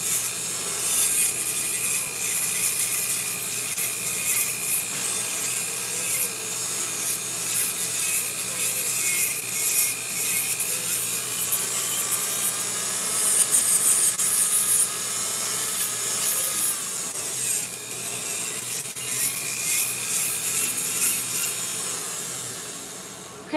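A nail nipper grinds and scrapes at a glued rhinestone stuck on an acrylic nail during a refill, continuous close rasping with uneven strokes and no talk.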